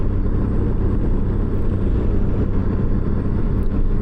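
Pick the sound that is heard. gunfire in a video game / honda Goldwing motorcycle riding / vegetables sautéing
honda Goldwing motorcycle riding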